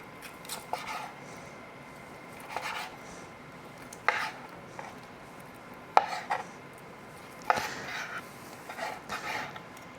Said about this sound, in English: Just gonna slice it up.